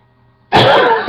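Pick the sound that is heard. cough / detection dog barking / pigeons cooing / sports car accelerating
cough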